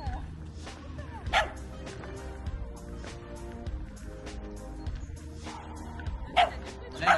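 Several dogs, including young ones, bark and yip at a dog training course on aggression toward other dogs, with sharp close barks scattered among whimpers while a person talks throughout.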